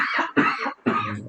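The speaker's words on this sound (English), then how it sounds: "Excuse me, I didn't mean to cough." A person coughs three times in quick succession, close and fairly loud, with short gaps between the harsh bursts.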